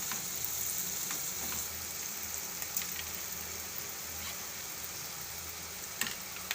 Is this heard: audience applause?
no